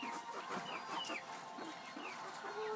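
Chickens cluck steadily inside a wire-mesh aviary on a small farm, several birds calling over one another in a continuous close chorus with brief higher squawks mixed in.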